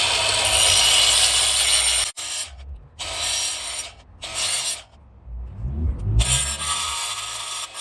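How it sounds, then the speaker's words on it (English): An angle grinder fitted with a linishing blade grinding down a metal pipe during plumbing work, loud harsh rasping bursts of a few seconds each broken by short pauses, with a lower rumble as the tool spins down. "I can get the angle grinder with a linishing blade and then bring that down to where it wants to be"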